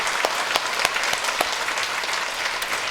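A church congregation applauds the Sunday school children during a Sunday worship service, a steady wash of many hands clapping at moderate volume with a few sharper individual claps standing out.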